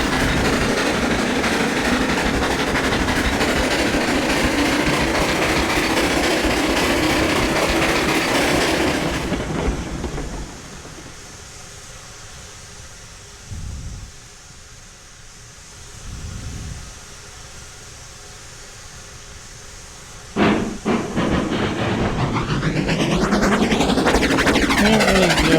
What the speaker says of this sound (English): we'll put these locomotives away in their shed